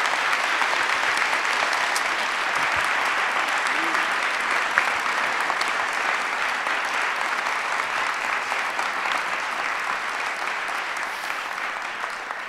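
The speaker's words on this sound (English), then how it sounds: "How about a big round of applause?" Loud, sustained applause from a large summit audience in Indianapolis, dense clapping that runs steadily for the whole stretch and fades slightly toward the end.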